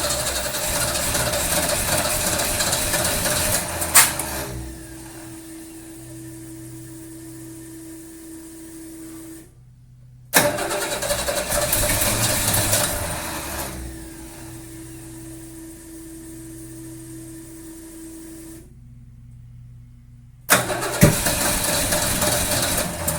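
A supercharged, fuel-injected Holden Torana engine is cranked cold, catching and settling into a steady idle, then cutting out abruptly; the cycle repeats, loud and close, with no talking.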